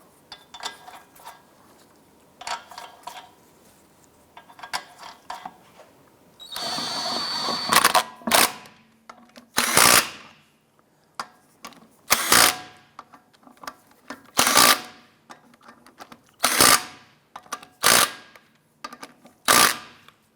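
Lug nuts on a 2001-2007 Ford Escape car wheel are snugged down with a power tool, heard as loud, close bursts of ratcheting rattle repeating about every two seconds after a longer initial run.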